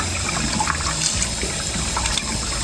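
Running water rinses hand-dyed yarn, a continuous close splashing gush with small irregular spatters throughout.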